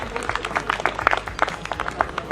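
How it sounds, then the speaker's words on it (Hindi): Audience at a Hindi comedy poetry gathering clapping for the poet, a brisk scattered round of claps with some crowd murmur mixed in. "एक बार तालियां बजा दीजिए मास्टर जी के लिए"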